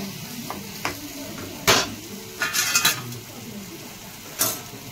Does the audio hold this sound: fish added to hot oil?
yes